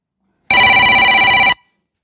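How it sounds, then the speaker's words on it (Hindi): A telephone ringtone sounds once, a loud, steady electronic ring lasting about a second close to the microphone, with silence before and after. "बार बार फोन करके लोग डिस्टर्ब कर रहे हैं यार"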